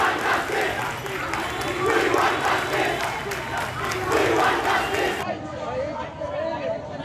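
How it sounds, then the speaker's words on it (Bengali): Protesting students chant slogans in a loud, dense crowd at Shahbag police station, their voices rising and falling in steady rhythmic surges from start to finish. "সেখানে স্লোগান দিতে থাকেন তারা।"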